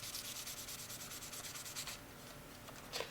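Sandpaper rubs back and forth against a knife blade in steady rhythmic strokes, close up and fairly quiet, with no voices.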